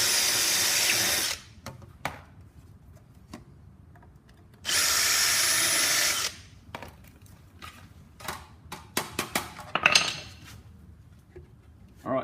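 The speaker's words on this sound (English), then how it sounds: "I've got a stepper drill here." A step drill bores through a metal heat shield in two loud, steady bursts of high-pitched whirring about three seconds and one and a half seconds long, followed by scattered clinks and taps of handling.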